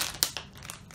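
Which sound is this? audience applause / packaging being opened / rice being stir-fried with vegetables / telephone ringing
packaging being opened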